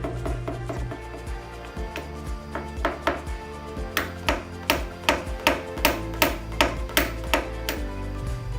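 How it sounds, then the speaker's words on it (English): Metal blending hammer tapping down a dent on the roof of a 1965 Mustang Fastback during paintless dent repair: a steady series of sharp, ringing taps, speeding up and growing louder toward the end, with no talk. "we also have to be sure to tap down all of the high spots with the use of a blending hammer"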